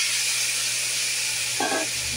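Curry and fried prawns sizzle in a hot pan with a steady, close hiss, and a brief brighter crackle flares up near the end.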